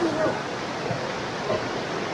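Clear creek water flows in Kanaka Creek Park, a steady broadband rushing close by, with faint voices underneath.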